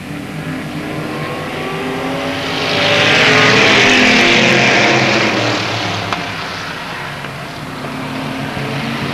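Race cars roar around Avilla Motor Speedway, a dense, loud engine drone that swells as a pack passes close by mid-way and then fades back to a steady distant rumble.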